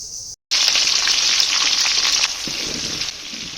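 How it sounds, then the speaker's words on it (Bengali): Onion, green chilli and tomato hit hot oil in a wok with a loud, bright sizzle after a brief silence, holding a steady hiss that eases slightly as it settles, up close and without speech. "কড়াইয়ের মধ্যে একটু তেল দিয়ে পেঁয়াজ, কাঁচামরিচ, টমেটো এগুলো দিয়ে একটু হালকা ভেজে নিতে হবে"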